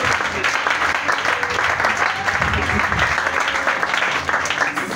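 A church congregation applauds and cheers to acclaim the Lord, a dense, steady wash of clapping from many hands held at an even level for the whole stretch, with voices mixed into the crowd.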